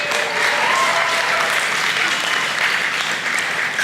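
Wedding guests applaud at a reception, dense steady clapping from a large crowd, loud and sustained throughout.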